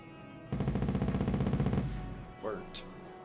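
Rapid automatic gunfire in the strategy game Wargame: Red Dragon rattles in one sustained burst of about a second and a half, loud and even, followed by a short whooshing effect.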